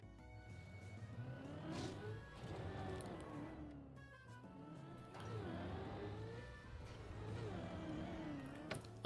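A race car engine in Trackmania's Deep Dip 2 drones at high revs, its pitch rising and dipping in smooth sweeps as the car speeds along, loud and continuous.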